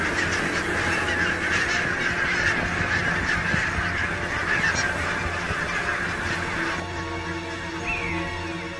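A dense flock of geese on a Scottish island honks continuously with overlapping calls. The chorus eases slightly near the end, while scattered honks carry on.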